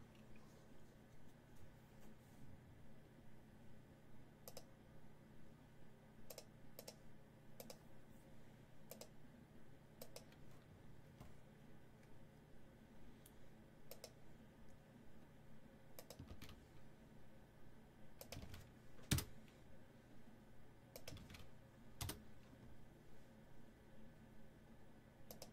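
Quiet computer keyboard typing, with sparse scattered key taps and a few short clusters of clicks over a faint steady hum, no voices.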